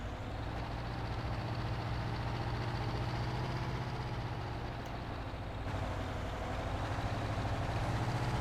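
An older tractor's engine in Farming Simulator 19 drones steadily at a low, even pitch, a constant close mechanical rumble with no breaks or revving, and no talking over it.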